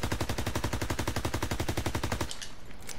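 An MP40 submachine gun firing full-auto in Call of Duty WWII, a loud, fast, even string of shots lasting about two seconds that then stops, followed by faint mechanical clicks.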